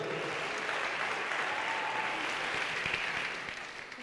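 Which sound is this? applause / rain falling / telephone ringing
applause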